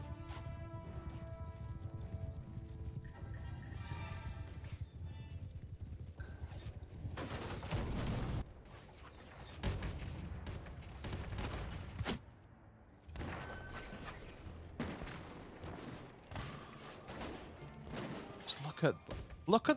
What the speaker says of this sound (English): Look at the devastation these hand cannons can cause, though.